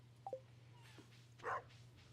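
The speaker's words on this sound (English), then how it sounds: "I hear ya, Luigi. Luigi's my dog's name, if y'all didn't know that" A dog gives two short, faint barks, one early and one louder midway, over a steady low hum with no talking.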